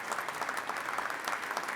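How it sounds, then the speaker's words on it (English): An audience applauds at a New York State Police graduation ceremony, a steady dense clapping from a large crowd heard close and continuous throughout. "let's give a round of applause to Catherine Garcia,"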